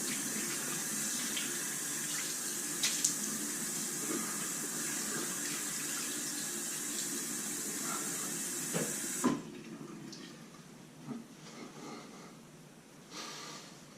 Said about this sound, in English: A little cold water time, splash the face.